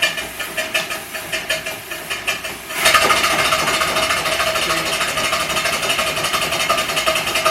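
Compressed air hisses from the cylinder drain cocks of an Allen Mogul locomotive: a series of short rhythmic puffs, then a sudden loud continuous hiss that holds steady to the end.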